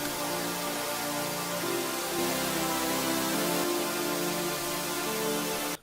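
A wide, detuned synth chord stack built from layered saw waves with a stereo shaper, made in FL Studio, sustains loudly and steadily with dense harmonics, shifting chords about two seconds in and cutting off abruptly at the end.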